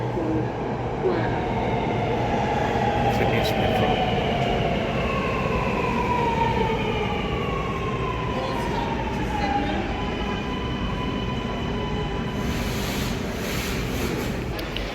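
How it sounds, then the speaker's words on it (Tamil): A Sydney Metro train rolls into a station with a loud steady rumble, rising and falling whining tones from the motors, and brief squeals near the end. "ட்ரெயின் வருது."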